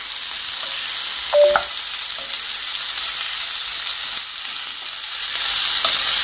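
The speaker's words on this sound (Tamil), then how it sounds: "இனி வெட்டி வச்சுருக்க தக்காளி பழத்தை கலந்து கொள்வோம்." Chopped tomatoes are stirred into onions frying for a dosa chutney, producing a loud, even sizzle with a brief clatter of a spoon against the pan early on.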